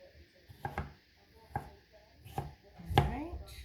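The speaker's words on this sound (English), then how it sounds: "That one all chopped up." Knife chopping Mr. Stripey heirloom tomatoes for a breakfast quiche, four spaced, sharp cuts against a board at a steady rhythm, close and fairly quiet, with faint background noise between strikes.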